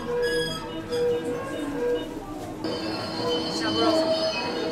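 A JR West Biwako Line train rolls into a station with high metallic wheel squeal over a steady rumble, a sustained piercing tone joining partway through as it slows.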